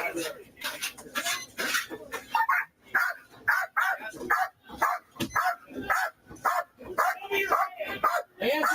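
A dog barks in repeated sharp bursts during a police arrest by a roadside, close and steady, mixed with voices shouting over it.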